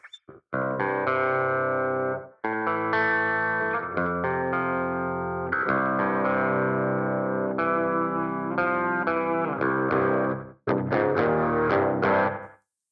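Electric guitar played through a soft clean patch on a Vox ToneLab EX recorded directly, bright ringing chords and phrases with a chorus-like shimmer, played alone with brief gaps between strummed passages.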